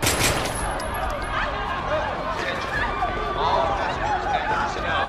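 Rapid bursts of gunfire in a film's bank robbery scene crackle over a noisy, chaotic scene with agitated voices and panicked crowd commotion throughout.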